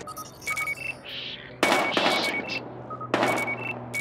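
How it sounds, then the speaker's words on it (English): Gunfire in the shooter video game Battlefield Hardline, sharp loud bursts of shots in two main volleys with short tonal game effects between them. "We've got gunshots."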